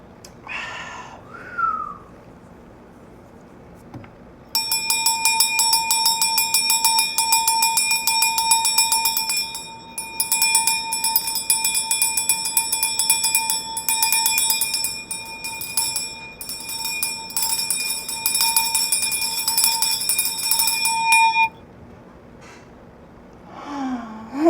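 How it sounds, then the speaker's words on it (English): A bell rung to cleanse the air indoors: one struck tone rings out clear and sustained for about seventeen seconds, then stops, with faint breathing and a brief voice at either end. "let's cleanse the air with this bell."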